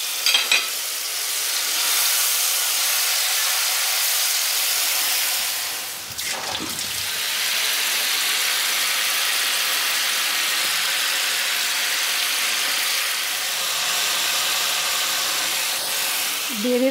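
Onion, cashew and garlic paste sizzling in hot oil for Bengali masala ilish: a loud, steady frying hiss throughout, with a brief stir or splash near the middle and no voices.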